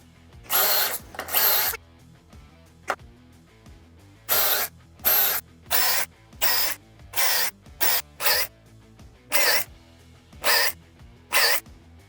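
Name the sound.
drilling pocket holes in wood boards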